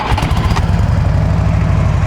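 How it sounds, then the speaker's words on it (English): A Harley-Davidson Ultra Classic FLHTCU touring motorcycle with factory exhausts starts and idles, giving a close, loud, even low-pitched engine rumble. "Fires right off. Runs like a sewing machine."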